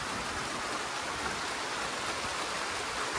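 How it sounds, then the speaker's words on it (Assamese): Steady rain pours through the night at a camping spot, a dense, even hiss that fills the whole clip with no voices and no breaks. "গাইস চাওৱে কি বৰষুণ দিছে"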